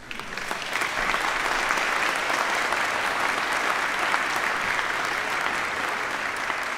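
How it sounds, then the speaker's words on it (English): A church congregation breaks into sustained, dense applause after a choir sings, steady and loud throughout with no pauses. "I thought you would applaud at that point."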